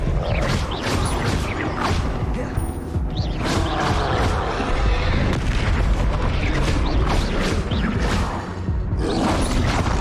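Repeated Bombarda blasting-spell explosions in the game Hogwarts Legacy, a dense run of booms and whooshing bursts across a busy, loud soundscape of spell effects and combat.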